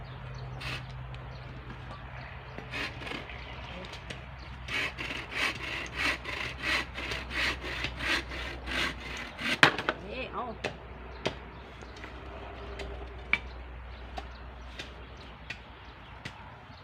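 Rhythmic back-and-forth strokes of a hand saw cutting long wood into firewood, steady in the middle, then stopping with a few knocks and quieter scraping.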